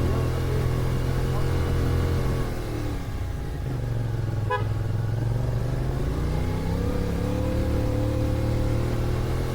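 A vehicle engine labours up a steep mountain road on a ride through south Bandung toward Curug Tilu Cipelah, with a steady loud drone and a brief horn toot partway through.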